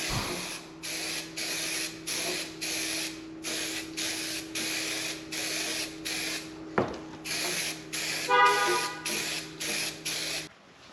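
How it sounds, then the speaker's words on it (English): Etching primer sprayed from a can onto a 2013 Camaro bumper cover in close, repeated hissing bursts of about a second each, with brief pauses between them and no talking. "So I'm using U-Pool etching primer."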